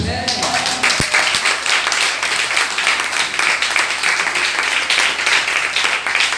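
A church congregation applauds and cheers in thanks to God, a dense, loud, sustained wash of clapping and voices filling the whole moment.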